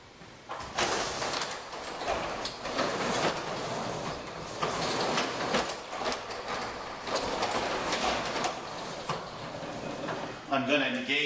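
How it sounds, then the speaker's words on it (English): A garage door is pushed up and down by hand, giving repeated rolling rumbles and rattling surges as it travels along its track, close and fairly loud. "now I'm going to manually run the door up and down to work everything in."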